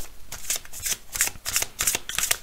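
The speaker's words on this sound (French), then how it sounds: "Alors, on va retirer une carte" Tarot cards being shuffled in several quick riffling bursts, close and clear, with brief pauses between them and no talking.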